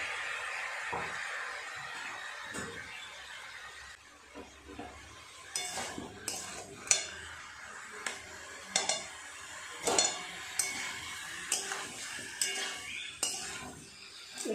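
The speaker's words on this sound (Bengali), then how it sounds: "একটু সময় নিয়ে এভাবে সমস্ত কিছু কষাবো" Prawn curry with fried potatoes sautés in a pan: a low background sizzle under repeated scraping and clinking strokes of a spoon against the pan, close and fairly quiet, with short pauses between strokes.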